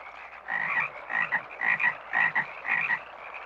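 Frogs croak in a steady run of raspy, rhythmic calls, about six bursts evenly spaced, fairly quiet against a calm background with no voices.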